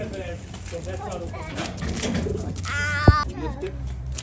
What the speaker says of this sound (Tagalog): Ay, mga ibang ibon, oh.